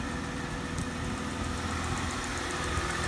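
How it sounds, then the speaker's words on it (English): Steady mid-pitched idle from a 2004 Mercedes SLK 320 flood car, with a faint rapid ticking riding on the engine's continuous hum; no voices. "Oh, you got a little tick, tick,"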